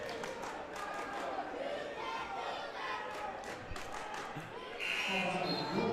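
A crowd at a women's college basketball playoff game roars steadily, with shouts, a cheer surging near the end, and ball bounces and sneaker sounds in the gym mixed under the noise.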